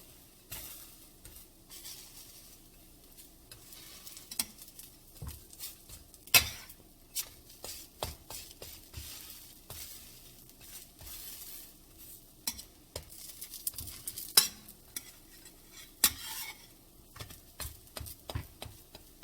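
Zucchini fritters sizzle in a hot frying pan with crackling spatters throughout, and a utensil scrapes and taps now and then.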